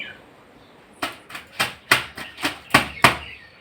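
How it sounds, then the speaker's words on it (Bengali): Soaked clothes washed by hand: a run of about eight wet slaps or scrubbing strokes in an uneven rhythm, close and fairly loud, with no speech. "এদিকে কাপড় ভিজিয়েছি, তো এখন কাপড়গুলি ধুয়ে নেব।"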